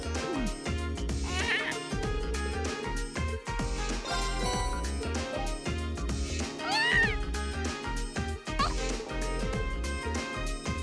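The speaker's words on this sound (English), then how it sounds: "Oh, there she is. Yay, the cat." A cat meows a few times in The Legend of Heroes: Trails of Cold Steel, rising over dense game music and effects while a player talks.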